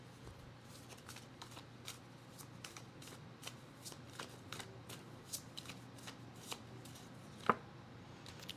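Tarot cards shuffled in a steady run of soft riffling flicks and slaps, close and fairly quiet, with one sharper snap near the end and no voices.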